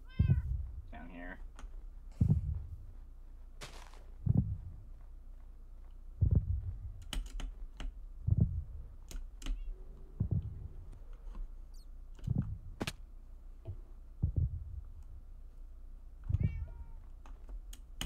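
A cat in the Minecraft game meows repeatedly in short, evenly spaced cries, mixed with keyboard and mouse clicks and occasional talk.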